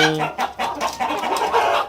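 Pure Elba hens and Elba KUB crossbreed chickens cluck in a shared coop, short close calls following one another in a quick, uneven run.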